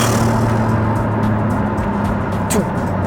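A Techart-tuned Porsche with a PDK gearbox runs steadily close by, its engine a constant loud drone with a brief swell near the end, while a voice speaks over it.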